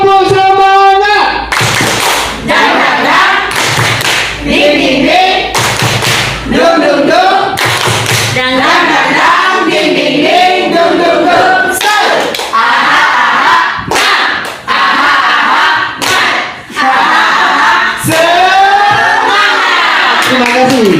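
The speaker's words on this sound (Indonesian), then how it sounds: "1, 2, 3. Tepuk semangat." A group doing tepuk semangat, a rhythmic spirit clap, loud and close, with sharp bursts of claps in a patterned beat and brief pauses, some voices chanting along between the claps.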